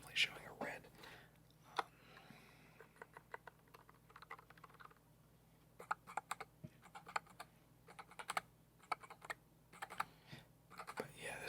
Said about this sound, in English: when you're typing on a nice keyboard, it makes you want to use a computer more